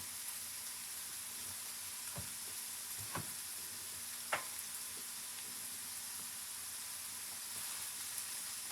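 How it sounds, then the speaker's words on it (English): Minced garlic sizzling with onions in a hot pan, a steady broad fry hiss with a few sharp crackles and pops scattered through, close and alone with no voices. "I got some minced garlic that I'm going to throw in here."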